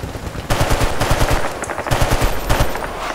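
Aircraft machine-gun strafing in a Vietnam-era shooter game: a loud, close, rapid stream of gunfire starting abruptly and rattling on in continuous bursts with brief gaps, no talk over it.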